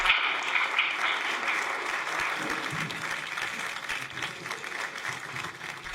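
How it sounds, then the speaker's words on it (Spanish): Sustained applause from a large audience, steady and dense throughout, with a few faint cheers mixed into the clapping. "les pido un aplauso grande para Javier y empezamos."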